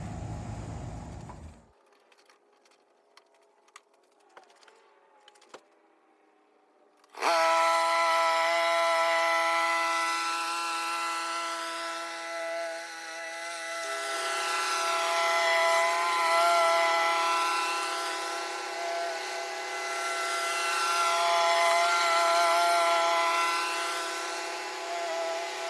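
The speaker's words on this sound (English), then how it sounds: "Gonna set the Honda 3 inches, and hey, let's try to do some mowing here." A Honda walk-behind lawn mower set to a three-inch cut starts after a few quiet clicks, then runs steadily and loudly while mowing a lawn, its engine drone rising and falling slightly as it moves.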